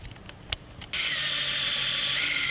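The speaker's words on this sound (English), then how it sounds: "I'm using a 40mm hole saw to make the holes for the PVC tube." Power drill spinning a 40mm hole saw to cut holes for PVC tubing, starting abruptly after a few faint knocks and then whining steadily and loud for the rest of the moment.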